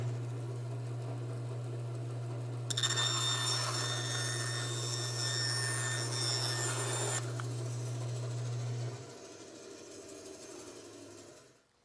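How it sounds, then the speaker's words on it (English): Bandsaw slicing a turned wooden bowl in half: a steady motor hum, then a loud, bright cutting whine for several seconds that stops abruptly before the machine spins down and falls quiet. "I think I might just cut it in half on the bandsaw,"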